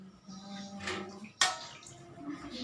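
Instruments lifted out of a basin of chemical disinfectant soak, with soft watery sloshing, a sharp splash midway and light drips and clinks, fairly quiet and close, without speech.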